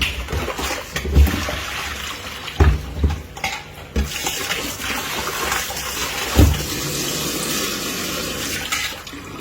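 Fish is rinsed under running water in a kitchen, a steady gush and splash with irregular louder sloshes as the pieces are handled, filling the whole stretch without talk.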